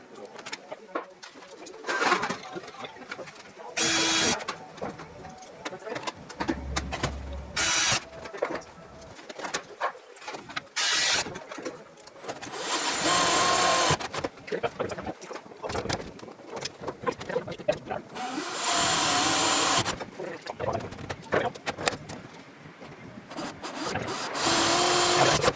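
Holes are pilot-drilled through an aircraft bulkhead while fabricating an ELT mount, heard as repeated short, whining drill bursts of a second or two, with pigeons cooing and brief talk in between.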